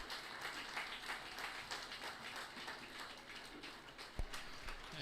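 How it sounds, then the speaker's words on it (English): Faint, distant crowd clapping at a high school varsity football game, a soft continuous patter with one brief thump near the end. "Let's give a round of applause for Jackson Muzzy, number 47"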